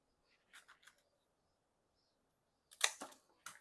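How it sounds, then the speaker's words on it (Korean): Scissors snipping begonia stems during repotting, a few soft, close clicks early on followed by a sharper cluster of crisp cuts, then silence in between. "그래서 가위 이용하는 게 좋습니다. 저는 이렇게 자르기로 마음 먹었습니다."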